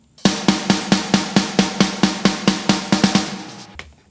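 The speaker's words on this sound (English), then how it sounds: "So let's blend the snare sample with the main snare track." A death metal snare drum, with a sample blended into the main snare track, strikes about fourteen times in a fast, even rhythm, each hit sharp and loud before ringing off alone.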